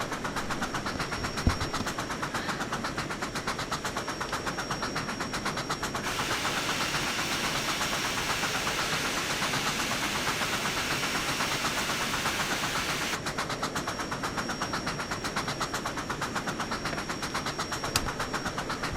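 A locomotive engine runs in the Trainz 12 train simulator game, a continuous droning rumble with a dense rhythmic clatter that holds steady throughout, with no voices.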